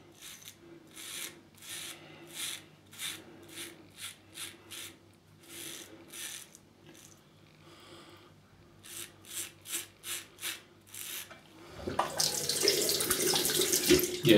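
Tap water rinsing shaving cream off a Gem 1912 single-edge safety razor: a series of short, rhythmic swishing splashes, nearby and fairly quiet, followed by a steadier, louder run of flowing water from the faucet.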